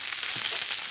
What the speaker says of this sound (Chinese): 这肥肉啊，直接下锅把油炒出来